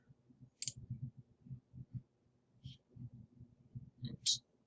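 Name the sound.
mouse click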